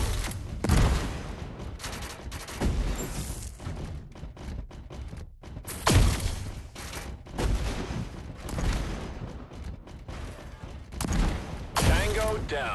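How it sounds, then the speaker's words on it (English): Scattered volleys of gunfire and booming bombardment in a battle scene, heavy thuds rising every few seconds over a rumbling, noisy bed, fairly distant and moderately loud. "Commence firing. We are under bombardment."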